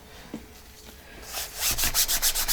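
A paper journal pocket being rubbed down by hand, quiet at first, then a loud, close, rhythmic series of scraping strokes in the last second, with no talking.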